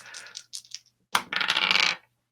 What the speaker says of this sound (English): Oh, shoot. I dropped the dice.